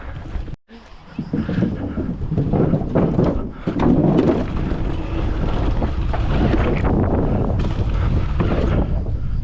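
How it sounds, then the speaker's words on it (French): Steady wind gusting across an outdoor dirt and BMX bike park, a constant loud rushing buffet on the microphone that persists throughout with faint voices underneath. "Et il y a du vent, du coup ça décale et ça freine."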